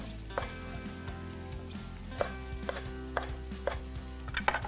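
A knife chops tomatoes into strips on a cutting board, giving a handful of sharp, separate cuts at an uneven pace. They sit up close over steady background music, and no one speaks.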